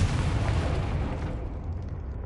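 A Confringo spell explosion in Hogwarts Legacy lands as a single loud, rumbling blast that fades over about two seconds.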